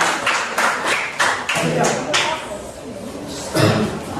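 Students in a classroom clap for a presenting group, giving a short burst of rhythmic claps in rough unison that thins out and fades, close and fairly loud.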